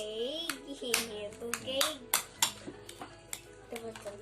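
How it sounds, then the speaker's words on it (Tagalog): Boiled egg is stirred into mayonnaise in a bowl for loaf-bread shawarma, giving repeated sharp utensil clacks and scrapes in an irregular rhythm, close and fairly quiet, while a voice sings or hums in the background. "Then meron tayong boiled egg. Ihalo lang natin sa mayonnaise."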